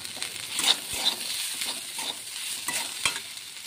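Turmeric, chilli and cumin powders frying in a pan for banana flower curry, a steady close sizzle broken by repeated scraping stirs and spoon knocks, with no voices.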